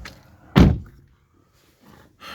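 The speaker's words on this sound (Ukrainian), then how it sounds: "Закроємо двері." Rear door of a BMW M340i F30 shuts with one solid, close thunk, followed by a quiet pause and faint rustling afterward.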